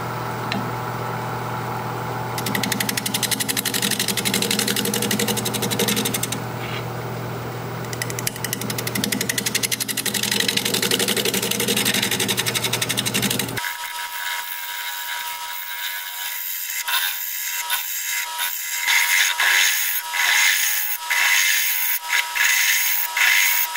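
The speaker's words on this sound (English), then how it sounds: "I've adjusted my tool rest a little bit so I can do some shear scraping right here, just along this top edge" A tool held on a wood lathe shear-scrapes along the top edge of a bowl. A continuous loud whir and grind stays close and steady, then shifts to a lighter, rhythmically pulsing scrape in the second half.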